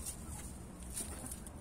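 A large hen clucks and squawks nearby in a backyard poultry pen, with sharp, shrill cries breaking out several times over a low rumble of background noise.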